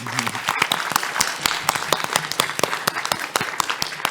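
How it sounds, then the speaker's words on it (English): Applause from the crowd at a live PAX West panel on Game Boy Advance games, distinct individual claps rattling in a fairly quick, uneven rhythm, close and moderately loud. "Round of applause, please."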